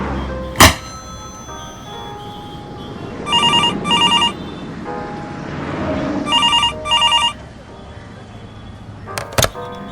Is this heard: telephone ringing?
yes